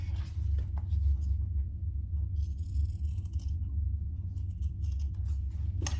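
Scissors cut off excess fabric while making a zippy bag. Several soft snips and a longer slicing rasp sit over a steady low hum, close and quiet with no talking.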